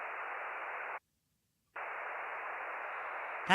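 The moon echo effect in the Loopmix iPad app plays as a loud hiss of static-like noise. It cuts out for about a second, returns, and ends in a short rising sweep, with no talking.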